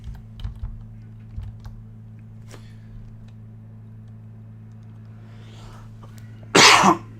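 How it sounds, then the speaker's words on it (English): Soft keyboard tapping and a few clicks, then one loud, harsh cough bursts out near the end. "I do apologise for coughing on the stream."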